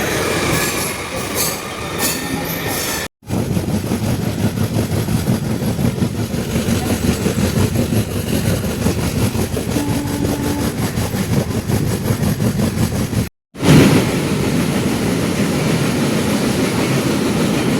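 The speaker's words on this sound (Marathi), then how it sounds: "मित्रांनो, आपली ट्रेन आता निघालेली आहे दिवा स्टेशनवरून." A passenger train pulling out of Diva station at night, a loud continuous rumble of wheels on rails with rhythmic clatter and occasional squealing, heard close from inside the coach, with two brief dropouts.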